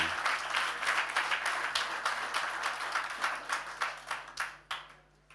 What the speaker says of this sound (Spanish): le damos un aplauso a toda la gente que sirve